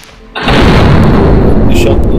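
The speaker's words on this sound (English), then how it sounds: "we're gonna add there the explosion or something" A loud explosion sound effect fires in a Unity 2018 game demo, a sudden heavy blast that becomes a sustained roaring rumble and fills the rest of the moment.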